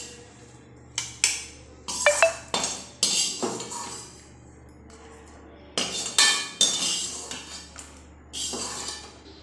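Fried cabbage leaves dropped and scraped from a pot into a metal grinder jar, giving a run of loud, close clinks, knocks and metallic scrapes in irregular bursts with short pauses between.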